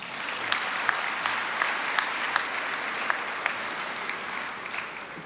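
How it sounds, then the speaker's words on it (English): Audience applause at a 2016 commencement ceremony: a steady, even wash of many hands clapping throughout, with scattered sharper individual claps standing out, heard at moderate distance. "Yes, you can applaud."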